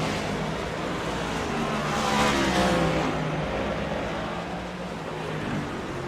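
Ford Mustang race cars circle a road course in a sim-racing league, a steady dense engine roar with a gentle rise and fall as they brake into a corner, with faint commentary underneath.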